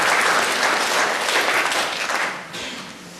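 A church congregation gives a burst of loud, dense applause during a Sunday service. It holds steady, then eases off toward the end.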